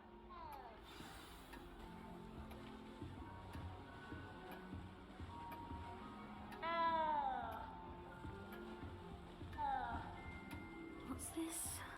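A cat meows in the video game Hogwarts Legacy, a few short, rising and falling mews spread out over background music and ambience, the louder calls coming near the middle and toward the end, with speech nearby.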